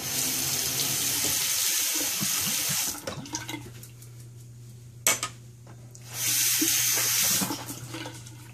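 A tap runs steadily into a bathroom sink while a shaving brush is rinsed, stops for a few seconds with a brief clatter, then gushes again loudly.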